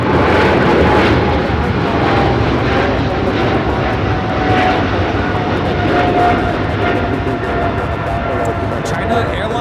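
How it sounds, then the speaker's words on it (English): China Airlines Boeing 777 freighter taking off from Los Angeles airport, a loud continuous engine roar with a steady tonal hum, sustained and close with no letup. "China Airlines cargo taking off to Miami, Florida on the 777 freighter flight 5382"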